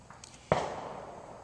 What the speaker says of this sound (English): they're setting off some fireworks